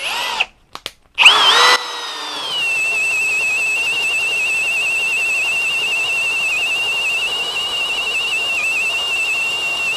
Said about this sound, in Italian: per forare il legno niente mezze misure, andiamo direttamente con 35 mm